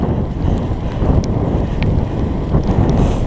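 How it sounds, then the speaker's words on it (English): Strong wind buffeting the microphone during a night fat bike ride, a continuous low roar with gusty swells and no voices. "Windy, but the wind is supposed to die down."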